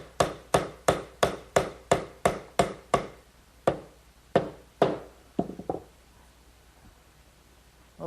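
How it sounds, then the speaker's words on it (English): Rubber mallet tapping a wooden dovetail joint into its slot: about a dozen sharp, evenly spaced knocks, a few slower taps and a quick flurry at the end, then quiet. "Maybe just a little gentle persuasion from a rubber mallet."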